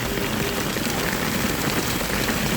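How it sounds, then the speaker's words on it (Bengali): Heavy downpour drumming steadily and loudly, heard from a rickshaw in the street, a dense continuous hiss of rain on surfaces with no pauses. "ব্যাপক বৃষ্টি হচ্ছে ব্যাপক বৃষ্টি"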